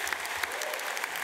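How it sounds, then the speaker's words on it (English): A graduation audience at a UAL 2023 ceremony breaks into dense, sustained applause, many hands clapping steadily and loudly for the whole stretch with no let-up. "Give yourself a round of applause."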